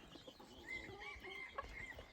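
Chickens, gamecocks and jungle fowl cluck in short bursts with a few higher calls, fairly quiet and close, over faint background noise.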